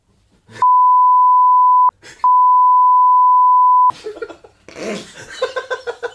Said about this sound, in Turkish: Biz de çok uzun bir bip yaptık az önce.